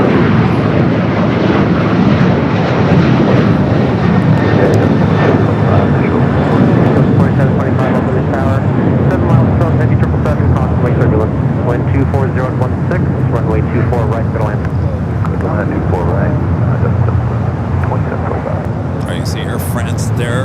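A Qantas Airbus A380 at LAX airport: a loud, continuous low jet roar rumbles close by throughout, with a voice speaking over it.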